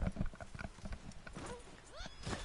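Hooves clip-clop in a rapid, uneven rhythm from a horse in Red Dead Online, close and clear, with a few brief whinny-like rising tones near the end and light talk mixed underneath.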